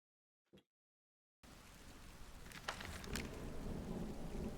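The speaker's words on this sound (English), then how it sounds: "Alright, it's raining." After a single faint thump and a pause, heavy rain and rolling thunder from Master of Command come in, building into a dense continuous downpour with low rumbles.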